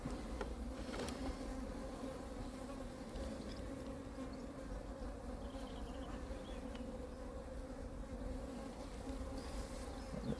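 Dense, steady buzzing of many honey bees swarming over a hive super during an open colony inspection, close and continuous with no talk.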